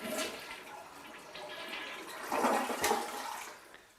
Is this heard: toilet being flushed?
yes